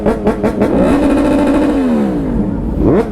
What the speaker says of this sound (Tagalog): Pag nakapikit ka, parang Yamaha R1 yung naririnig mo, no?